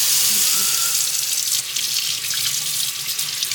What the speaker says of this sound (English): And just rinse it down the sink.